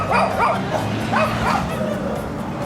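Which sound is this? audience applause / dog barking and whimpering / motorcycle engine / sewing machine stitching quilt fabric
dog barking and whimpering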